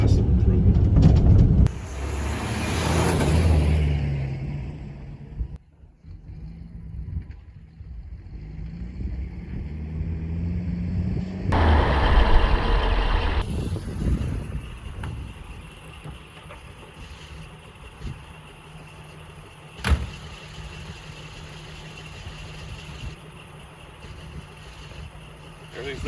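An engine with a freshly cleaned carburetor and a replaced cylinder head runs steadily nearby, its loud rumble surging early on and then settling into a constant hum with one sharp knock partway through.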